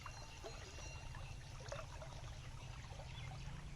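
Water running steadily from a pipe and channel into a flooded rice paddy, a continuous soft trickling and gushing flow heard close up, with no talk.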